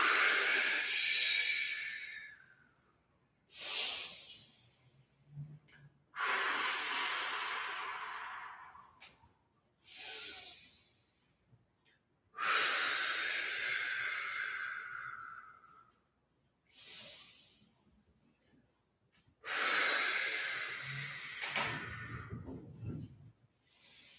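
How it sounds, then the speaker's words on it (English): During a vocal breathing exercise, a person takes long, loud, airy breaths close to the microphone, about eight of them in alternating inhales and exhalations with short silent gaps between. "Keep breathing. Keep breathing. Breathing is so important."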